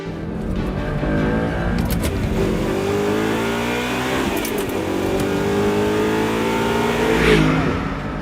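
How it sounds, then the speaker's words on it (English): An Audi R8 with a V8 engine revs loudly and steadily up close, its deep roar rising and holding for several seconds, with no voices. "Why I'd get a V8 is because it sounds like this."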